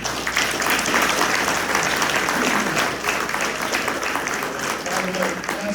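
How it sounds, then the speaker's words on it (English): Loud, sustained audience applause at a civic election forum for Ward 11, a dense wash of many hands clapping continuously for several seconds, with voices mixed in underneath. "Another round of applause"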